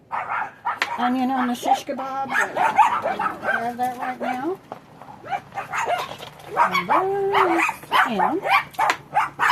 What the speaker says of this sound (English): The dogs are all excited. Sorry about the noise.